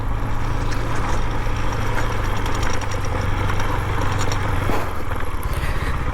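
A KTM Duke 250 BS6 motorcycle fitted with a full Akrapovic exhaust system idles close by, its engine rumbling at a steady, loud, even throb for the whole stretch without revving.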